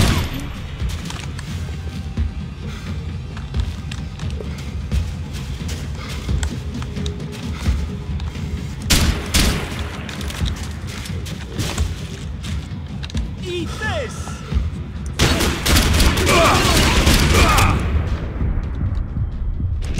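Dense gunfire and explosions from the video game Max Payne 3 rattle on continuously, with sharp bursts swelling louder toward the end over a constant noisy game background.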